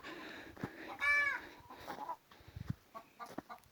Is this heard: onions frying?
no